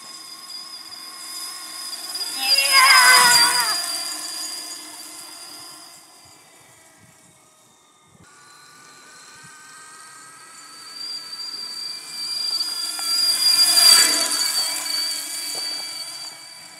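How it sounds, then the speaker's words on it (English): Tiny 1kW electric bike motor whining while ridden, a high-pitched tonal whirr that rises to a loud peak, fades, then climbs again to a second strong surge, like a drill-like squeal passing close. "You can use the motor, you don't have to pedal."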